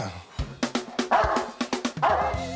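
A dog gives a rapid series of sharp barks and yips close by, with a voice speaking between the barks.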